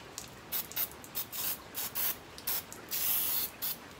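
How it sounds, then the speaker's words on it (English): PB Blaster penetrating oil is sprayed around a rusty car part in short, crisp aerosol bursts, about nine hisses of varying length with brief gaps between them. The spray is close and alone. "You just spray around the area that's rusty"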